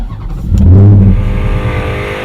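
A 426 Hemi and a Hellcat in a drag race: a loud, close engine rev swelling quickly and then holding a rough, throaty roar.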